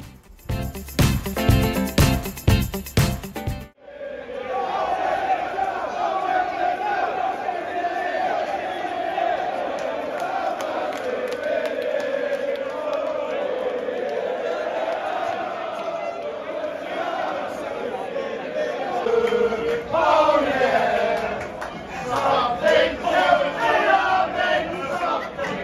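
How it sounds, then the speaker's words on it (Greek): Football fans in and around an English pub, a loud dense crowd chanting and singing continuously, with a burst of rhythmic clapping or stamping at the start and rowdy shouting swelling again near the end. "με τα τραγούδια να ακούγονται συνεχώς, τόσο εντός της pub, όσο και στους δρόμους γύρω από αυτή"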